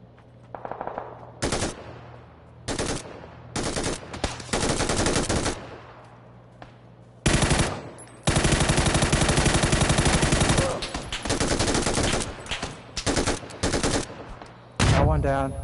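Loud automatic gunfire in the PUBG battle royale game, coming in repeated bursts, some short and choppy, others long sustained volleys, with brief gaps between them.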